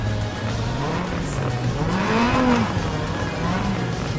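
A fast car in Need for Speed Most Wanted, loud continuous engine roar whose pitch sweeps up and down through gear changes, with a faint tire squeal mixed in and no talk.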